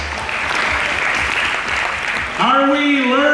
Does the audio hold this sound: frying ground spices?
no